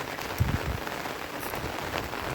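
Steady rain patters on surfaces beside a swollen river, a dense close hiss of drops with a few heavier taps and no voices.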